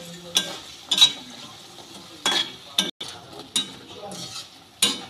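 Rosbora fritters made from biulir (urad) dal fry in oil under a soft, steady sizzle, punctuated by sharp, irregular clinks and scrapes of a spatula stirring and lifting them, close by.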